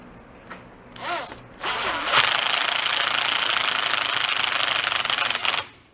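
An impact-style power tool with a socket runs down jam nuts on an engine-powered antique pedal bike, a few short bursts followed by a long, loud, rattling buzz close by that cuts off sharply.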